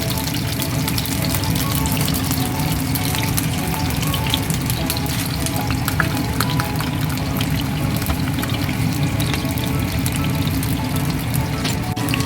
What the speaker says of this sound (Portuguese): esse mocotó, ó, tá bem seladinho, e já vai colocando na água